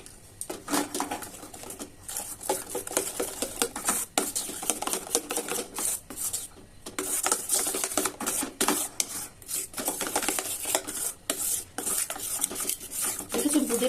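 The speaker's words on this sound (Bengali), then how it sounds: "আমি এইটুকুতে এই ফুড কালারটা আমি মিশিয়ে দিচ্ছি" A spoon stirs food colouring into a small amount of boondi batter in a bowl, giving steady rapid scraping and clinking against the bowl, loud and close, with no talk.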